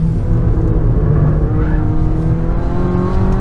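Hyundai car engine accelerating, a loud, close, continuous rising growl that climbs in pitch over a few seconds with no talk.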